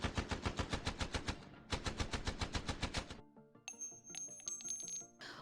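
Rapid bursts of automatic gunfire in two volleys, each a fast even string of loud cracks, followed by scattered ringing metallic clinks.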